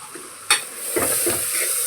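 Cumin seeds sizzle in hot oil for a mutton curry, with a sharp hiss as they hit the pan followed by steady frying and a few stirring scrapes, close up with no voices.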